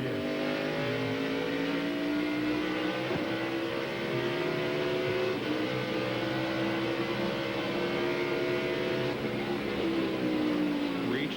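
NASCAR Winston Cup race car at Watkins Glen road course, 1998, its V8 engine screaming loud and continuous with rising and falling pitch through gear changes, braking and acceleration.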